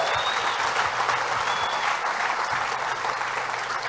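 A church congregation claps loudly and steadily during an evening service, dense applause with no break through the whole passage and a couple of faint high whistles above it.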